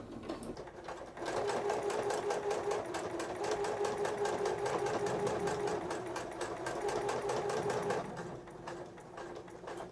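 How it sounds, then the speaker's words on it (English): A sewing machine runs a straight stitch through sweatshirt fabric to attach a kangaroo pocket, a close, steady rapid whirring and tapping that starts after a second and stops near the end. "I've set my machine for straight stitching and it's about 3 millimeters long."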